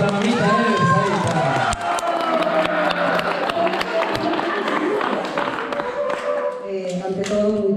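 Crowd applause and cheering at a 50th birthday party for a woman named Elsa, steady clapping under loud chatter and voices in a busy room.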